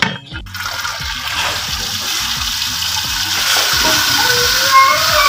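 Electric machine churning cream with cold tap water into homemade butter, giving a steady loud whirring and sloshing roar with rhythmic low thumps throughout.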